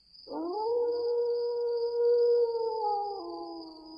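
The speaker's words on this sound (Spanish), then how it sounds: "los ladridos de perros lejanos cambian para entonar frenéticos aullidos" A single long, wavering howl rises and holds for several seconds, then drops in pitch, with a thin high tone in the background.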